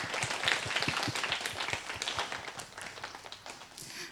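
A church congregation at a Sunday worship service gives warm welcoming applause, many hands clapping in a full, fairly distant wash that holds steady and slowly thins, with no talking over it.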